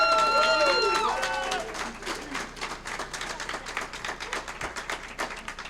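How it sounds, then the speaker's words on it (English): An audience at an ICB June Days event claps for an instructor, a scattered round of moderately faint applause that follows a brief voice at the start. "he always gets a good round of applause"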